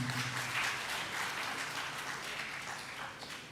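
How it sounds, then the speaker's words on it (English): A crowd at a regional government workshop in Bengaluru gives applause for the Karnataka team, a dense, steady clapping that fades slightly toward the end. "Can we have one more round of applause for the Karnataka team?"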